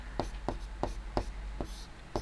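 Pen on paper during a maths lesson, quiet, close scratching strokes repeating in a steady rhythm about every third of a second, with no voices.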